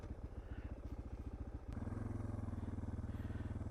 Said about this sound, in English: I'm riding around in the grass just because I can